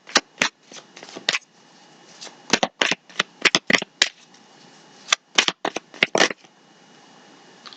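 Tarot cards being shuffled by hand, a series of crisp riffling bursts and soft slaps in irregular clusters, close and fairly loud with short pauses between shuffles.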